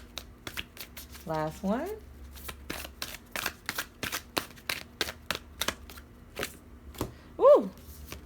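Spirit animal cards being shuffled make a rapid series of sharp, close-up snaps and flicks in uneven bursts. A voice speaks briefly near the end.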